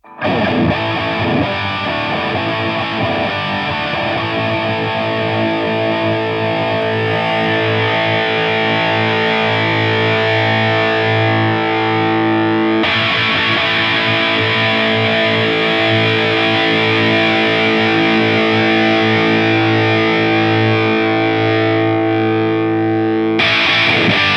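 A loud, heavily distorted electric guitar on a Line 6 POD Go plays sustained chords, its tone changing noticeably as the virtual cabinet mic slides from the cap edge, with abrupt shifts partway through.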